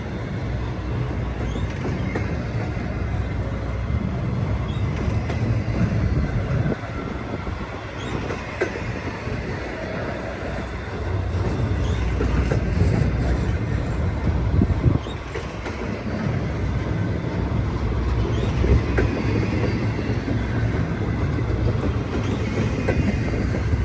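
A long freight train rumbles past at Verdemont with steady clickety-clack of wheels and a continuous heavy roar that holds loud throughout, with occasional faint wheel squeals.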